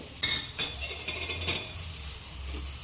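Chopped tomato being stirred into vegetables in a pan for moong dal pulao, with a few close clinks and scrapes of a spoon against the pan over a soft low sizzle, no talking.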